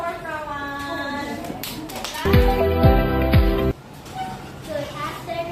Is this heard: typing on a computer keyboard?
no